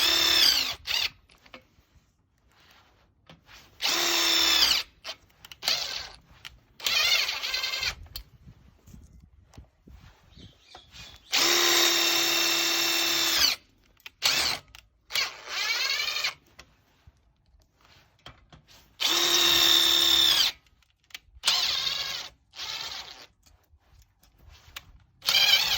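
A power drill drives security screws into a D&D Lokk Latch Deluxe in several loud whirring bursts of a few seconds each, separated by quiet pauses with faint handling noise.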